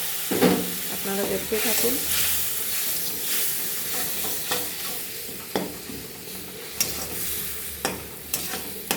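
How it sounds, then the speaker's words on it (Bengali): Spices frying in a pan with salt, turmeric and chili after a splash of water is added for masoor dal: steady close sizzle and hiss with stirring scrapes, a brief voice speaking over it. "অল্প পরিমাণ লবণ আর হলুদ গুঁড়ো আর মরিচটা সবটাই ছেড়ে দেব। তার মধ্যে কিছু জল দিয়ে দেবো যাতে মশলাটা পুড়ে না যায়।"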